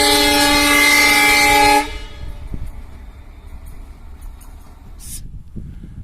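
Train 12664 at Dharwad Hubli railway station sounds a loud, sustained horn blast for about two seconds, then carries on with a quieter rolling rumble.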